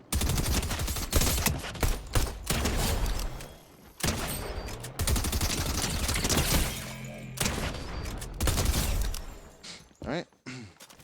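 Rapid automatic weapon fire from Fortnite, loud dense bursts of gunshots in long sustained strings broken by short pauses, with hits and impacts mixed in during bot practice.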